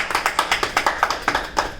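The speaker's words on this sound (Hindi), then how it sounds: "एक बार पुनः उनके लिए जोरदार तालियां" About a dozen evenly spaced claps ring out at a poetry gathering, close and fairly crisp, in a brisk rhythm like a small group clapping together.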